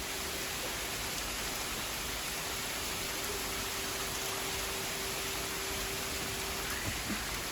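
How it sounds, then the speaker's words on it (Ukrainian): Steady rain hisses evenly throughout, a soft continuous wash of noise with a faint constant hum underneath and no voices. "Дивіться, який дощ пішов гарно."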